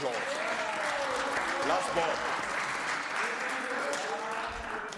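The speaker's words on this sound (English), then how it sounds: "we must give Last Born a big round of applause" Round of applause from members in a provincial legislature during a debate session, steady and moderate clapping throughout, with a voice speaking over it.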